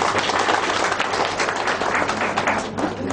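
At a BNI business seminar in Korba, Chhattisgarh, an audience gives Tilak Ram Kaivart a rousing welcome: loud, dense, continuous clapping from many hands, filling all three seconds with faint voices underneath.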